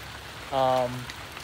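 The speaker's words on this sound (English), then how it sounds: "I know it's raining out here" Rain falling outdoors, a soft, steady patter in the background, briefly overlaid by a short tonal sound in the middle.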